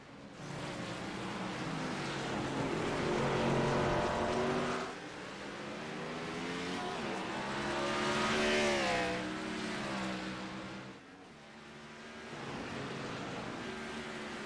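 Race cars run on the Roval racetrack, their engines swelling and fading in repeated waves as they pass and climb through gears, moderately distant and steady throughout.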